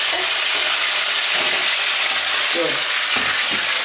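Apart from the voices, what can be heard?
French fries frying in hot oil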